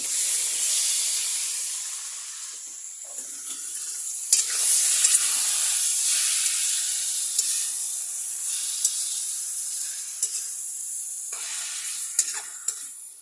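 Marinated meat, soaked overnight, sizzles loudly in a hot pan with a constant close hiss of frying and occasional stirring scrapes.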